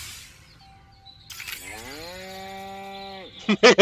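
A cow moos in the video game Destroy All Humans, one long, sustained, clear low moo lasting about two seconds, followed by short bursts of game sound effects.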